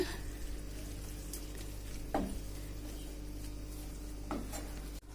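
Egg gravy simmering in a pan gives a faint, steady, soft sizzle, with a couple of brief light clinks partway through.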